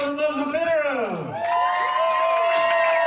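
Soccer fans at Cochrane Stadium cheer a goal in a women's match between BGSU and Robert Morris: a steady crowd roar with rising and falling shouts and whoops that swell and hold.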